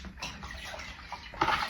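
Filtered water pours steadily into a pot while ginger beer is being made, a continuous splashing stream that swells louder near the end.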